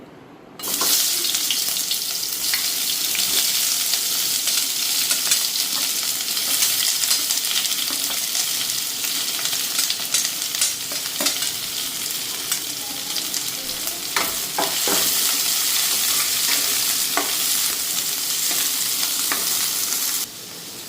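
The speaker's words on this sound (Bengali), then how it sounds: "তো পেঁয়াজটা এখন হালকা ফ্রাই করে নিই।" Onions fry lightly in hot oil in a kadai, producing a loud, continuous close-up sizzle with scattered crackles and pops that runs steadily for about twenty seconds with no voices.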